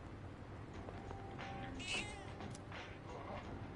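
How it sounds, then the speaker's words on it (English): A cat in the video game Persona 3 Reload meows weakly, a thin, faint cry rising briefly over steady background music and ambience. "It's meowing very weakly."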